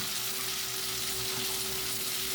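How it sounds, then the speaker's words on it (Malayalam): Drained green gram fries and is stirred in hot coconut oil, giving a steady, close sizzling hiss under a faint constant hum. No voices are heard. "അപ്പോൾ അത് നല്ലപോലെ ഇത് ഇളക്കിയെടുക്കാം"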